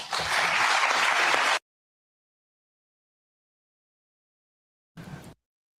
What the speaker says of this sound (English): Yeah, definitely round of applause.